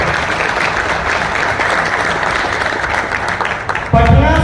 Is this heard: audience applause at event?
yes